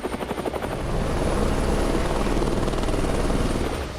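Apache attack helicopter rotors chop in a steady, rapid rhythm that builds from a pulsing beat into a continuous loud roar nearby.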